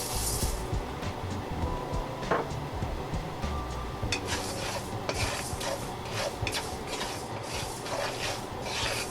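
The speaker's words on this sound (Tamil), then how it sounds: "இதை வறுக்க ஒரு 3 நிமிஷம் போல் எடுக்கும்." Fenugreek seeds being dry-roasted in a pan for sambar powder, with a spoon stirring and scraping them against the metal in steady, close, rasping strokes, plus small rattles and clinks throughout.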